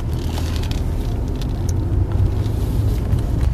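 A 2020 Jetour X70 SUV drives along with a steady, loud low rumble of engine and road noise. Faint clicks and rattles from the cabin come through, and no one speaks.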